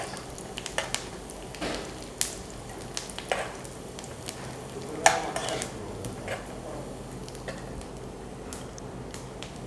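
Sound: cashew nuts being fried in a pan for payasam

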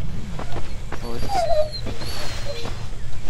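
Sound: dog whimpering in video game 35MM

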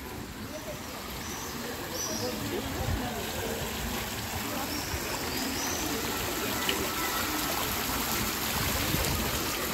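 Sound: flowing water

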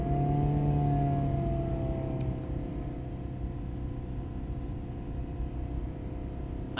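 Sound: Ford Escape / Mazda Tribute engine revving as it accelerates

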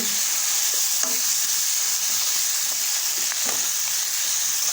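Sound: greens frying and stirred in tempering oil

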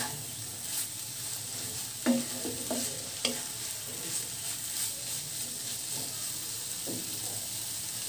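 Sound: stirring radish and egg fry in a pan

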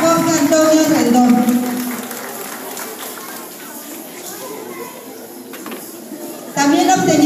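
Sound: audience applause

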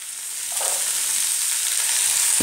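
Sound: spinach and spices frying in a pan

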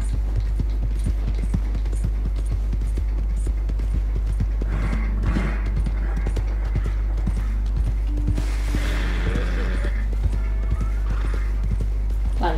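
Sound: horse hooves in Red Dead Redemption 2 video game

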